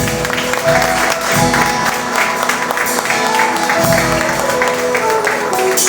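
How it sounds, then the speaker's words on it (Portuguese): Congregation applauding in church at the close of a service, dense clapping blended with music and sustained tones, loud and continuous throughout. "Aplauda o Senhor"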